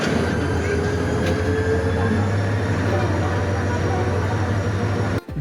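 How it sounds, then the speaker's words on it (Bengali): Bijoy Express passenger train in Bangladesh pulling out of a station: a steady, loud low rumble with continuous rolling rail noise, ending in a brief sharp knock near the end. "ধীরে ধীরে ট্রেন গতি নিতে শুরু করলো"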